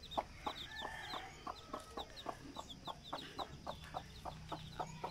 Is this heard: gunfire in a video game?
no